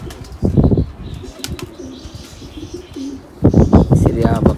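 Budgerigars in an aviary flap their wings in two close, loud bursts, with faint chirps and chatter in between.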